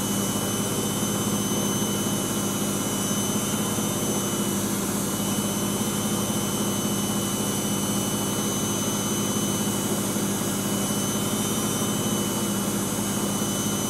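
A Servis Quartz Mk601 washing machine runs its rinse and spin program, a steady loud mechanical drone with constant motor hum and broadband whirring throughout, no voices over it.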